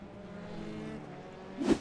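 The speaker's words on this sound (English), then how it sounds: "Spikes the revs." Formula 3 race car engine in a sim racing game at Barcelona, a steady high drone that briefly spikes as the revs flare near the end after a wheelspin moment on corner exit.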